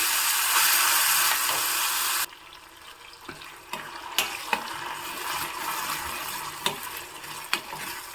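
A ground spice paste goes into hot asafoetida tempering for a Malenadu Havyaka Brahmin dish: a loud oily sizzle drops to a softer bubbling, broken by occasional sharp clinks of a stirring spoon.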